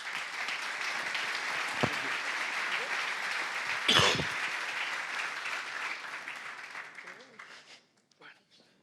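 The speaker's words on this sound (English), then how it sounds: "A big applause for the panelists, please." Audience applause for the panelists at a real estate summit conference in Portugal, steady sustained clapping from a large crowd with one sharp louder burst midway, fading out toward the end.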